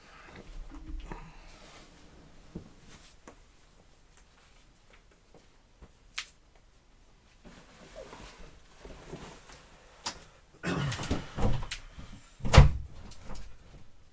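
A room door being handled while it is soundproofed, with scattered knocks, thuds and scraping, a few sharper bumps and a louder cluster of movement and a bang near the end, separated by quiet stretches.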